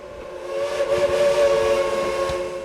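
A steam locomotive whistle at Cass, West Virginia blows one long, steady, slightly hissing tone that swells and holds for nearly three seconds, with no voices over it.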